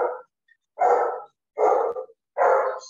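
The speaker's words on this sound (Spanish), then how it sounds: "¿será que quiere hablar o es el perrito que está ahí?" A small dog barks four times in an even rhythm, sharp and close, with short silent gaps between the barks.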